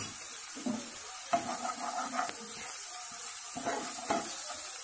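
Finely chopped capsicum sautéed in a pan for a stuffed mushroom dish gives a steady, soft sizzling hiss, broken by a few scraping stirs of a spoon against the pan.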